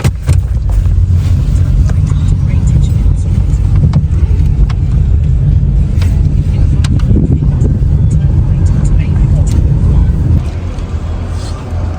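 Steady low engine rumble and road noise from inside a taxi crawling through heavy London traffic, loud and continuous, easing slightly near the end, with someone speaking over it.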